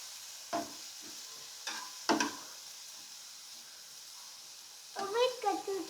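A healthy filling for a homemade Subway-style sandwich being mixed in a bowl, giving a few soft, scattered scrapes and clicks at fairly low volume, with a short burst of voices near the end.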